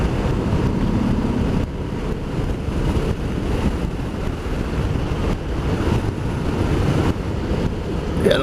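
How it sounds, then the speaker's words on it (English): Wind roars steadily past the microphone while riding a Harley-Davidson Sport Glide motorcycle through the countryside, a loud, continuous buffeting rush that carries through the whole stretch and barely changes. "the wind's picking up a little bit here"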